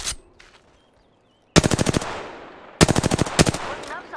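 Rapid automatic gunfire in the video game Apex Legends, two loud bursts of evenly spaced shots, the second followed by a few more rounds, with quiet gaps between bursts.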